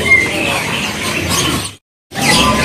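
A caged Mozambique songbird sings in the Pramuka bird market, bright, rapid chirps and trills up close, then a short silence before the song resumes.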